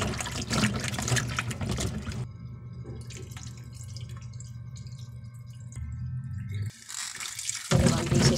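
Okra pods are washed under running tap water in a kitchen, splashing and pouring loudly at first, then quieter drips and handling, with a brief gush of water again at the end.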